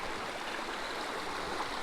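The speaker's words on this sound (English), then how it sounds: "Kind of little mini waterfalls." A small stream spills over little mini waterfalls, making a soft, continuous babbling rush that stays close and even throughout, with no voices over it.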